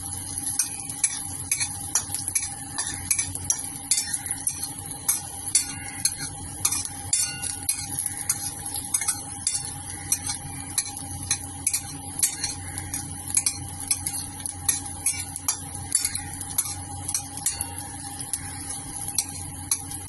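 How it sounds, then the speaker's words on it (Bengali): Garlic fries in a pan and is stirred continuously, with a soft sizzle under a regular, rhythmic scrape and tap of the spoon against the pan. "এখানে আমি রসুন ভেজে নিচ্ছি"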